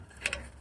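A brake line flaring tool being cranked down on a fitting gives two quick, close mechanical clicks like a ratchet, close together, with quiet background hum and no talk.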